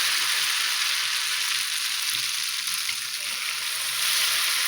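Ghevar batter poured into hot oil sizzles in a dense, continuous crackling hiss, loud and close throughout without pauses.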